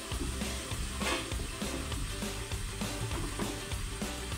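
Salted undhiyu gravy mixture sizzles loudly in a pan while being stirred, a dense, continuous frying hiss with soft scraping strokes, close and without talk.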